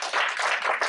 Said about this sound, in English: clap hands for yourselves